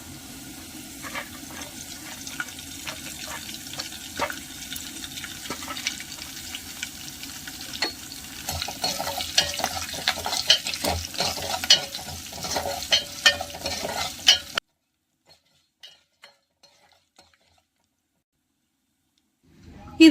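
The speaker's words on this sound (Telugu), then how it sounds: "ఆయిల్ హీట్ అయ్యాక అందులో ధనియాలు, మెంతులు, జీలకర్ర వేసేయాలి. ఇందులో కరివేపాకు కూడా వేసుకుందాం." Coriander seeds, fenugreek, cumin and curry leaves crackle in hot oil with stirring scrapes, a busy sizzle that grows louder before cutting off to near silence with a few faint knocks.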